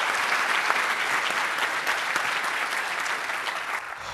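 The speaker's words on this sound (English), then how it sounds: "If we could give another big round of applause to everybody who presented them." A conference crowd applauds its lightning talk presenters, a steady, even wash of many hands clapping that fills the whole stretch without talk.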